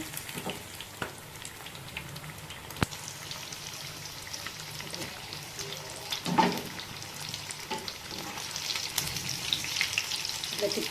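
Fish pieces coated in masala fry in oil with a steady, crackling sizzle throughout, broken by occasional clinks and a brief scrape of stirring, no talk.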